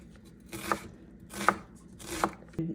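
Small onions diced with a kitchen knife on a board: three crisp, evenly spaced chopping strokes followed by a softer fourth knock, close and clear in a quiet kitchen.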